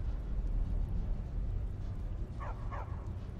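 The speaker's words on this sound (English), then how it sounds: "Stupid dog." In Skyrim, a dog in the city of Markarth gives two quick, short yips near the end. The yips sit over a low, rumbling ambient drone.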